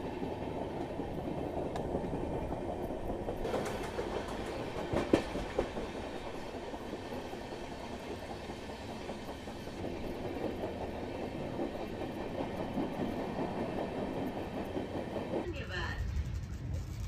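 A train approaching from the Jabalpur line, heard from aboard a Shatabdi Express on the Delhi–Bhopal route, gives a continuous loud rumble and rail clatter throughout, with a sharper rushing shift near the end.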